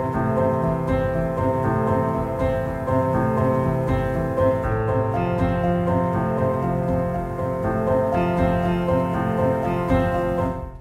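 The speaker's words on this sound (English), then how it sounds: "So it started off with these two pianos, and they sound like this." Two pianos from the Westwood Instruments Novella: Origin sample library play sustained chords together, loud and continuous with no voices over them.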